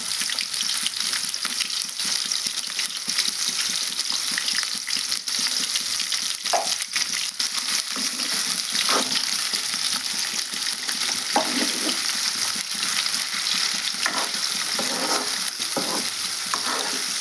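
Dried fish frying in hot oil for a tomato curry, a steady dense sizzle throughout with occasional stirring scrapes, close and alone with no talk.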